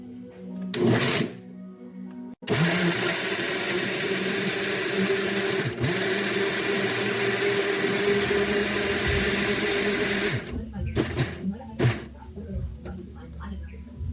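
A kitchen blender whirs steadily and loudly for about eight seconds as it blends carrots and water for a banana carrot smoothie, with clatter and brief handling sounds before and after.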